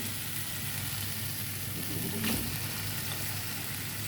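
A spice mix frying in just a little oil for a tuna biryani, a soft even sizzle throughout with a brief louder spit near the middle, close but fairly quiet, no voices.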